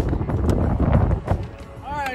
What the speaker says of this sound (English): Let me get inside, because it's freaking windy.